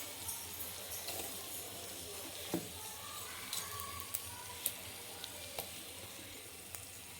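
Spice powder sizzles and fries in a pan on a stove, a steady soft hiss with faint scattered crackles and stirring taps, alone without talk.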